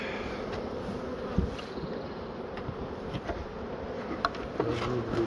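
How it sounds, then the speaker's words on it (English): Bees drone and buzz around the hives in a continuous, moderately faint hum, with occasional brief knocks and thumps nearby. "there's those bees over there."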